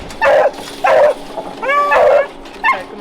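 Four loud, close dog barks come at an uneven pace, with one drawn-out, whining bark among them and no talk over them.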